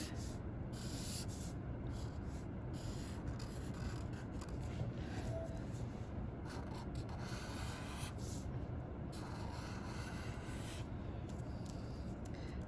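Quiet, continuous scratching of a pen drawing strokes across paper, close up, with short pauses between lines and no voices.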